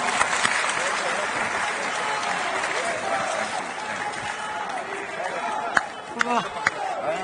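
Audience applause at a public event with Delhi Chief Minister Rekha Gupta: dense, sustained clapping and crowd noise fill the whole stretch, with voices mixed in and a few sharper claps near the end.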